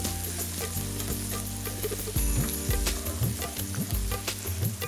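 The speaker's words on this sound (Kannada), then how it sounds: "ಅರಿಶಿನ ಹುಡಿ ಹಾಕಿ ಆದಮೇಲೆ ಸ್ವಲ್ಪನೇ ಮಿಕ್ಸ್ ಮಾಡ್ಕೋಬೇಕು" A mixture sizzling in a pan after turmeric powder is added, being stirred with a spoon for butter paneer masala, a continuous close frying hiss with repeated scraping strokes, no voices.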